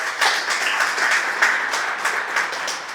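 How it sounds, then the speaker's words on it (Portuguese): A church congregation applauds in worship, loud, lively clapping from many people with sharp individual claps standing out in an uneven rhythm, sustained throughout with no voices. "Aplauda o Senhor, o sonho é de vocês."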